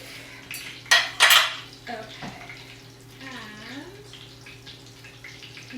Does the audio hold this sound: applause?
no